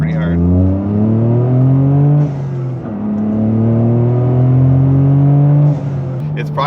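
A Toyota GR Corolla fitted with an Invidia high-flow downpipe revs loudly nearby, a deep throaty tone climbing and easing across several throttle blips with brief dips between them.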